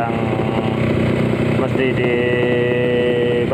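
A rebuilt Yamaha RXS 150cc two-stroke motorcycle engine runs steadily and loudly close by, its revs lifting slightly partway through, with a brief spoken word over it.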